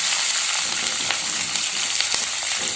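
Onion, green chilli and curry leaves fry in a hot pan for idli upma, giving a steady bright sizzle with a few scraping stirs, close and alone.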